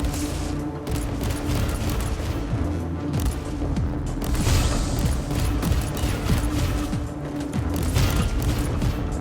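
Bolt gun fire in the video game Warhammer 40k Inquisitor, a continuous dense barrage of loud rapid shots and mechanical clatter with booming impacts, sustained throughout without letup.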